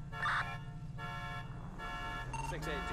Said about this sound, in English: All these car alarms, man.